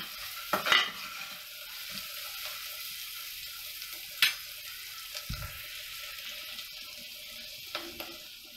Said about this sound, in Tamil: ஆனியன், பூண்டு ரெண்டையும் சேர்த்து நல்லா ஃப்ரை பண்ணணும்.